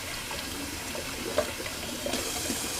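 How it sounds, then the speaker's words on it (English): Tap water runs steadily in a bathroom while a shaving brush soaks, a continuous close hiss and splash with a small clink partway through and no talk. "sorry about the water running"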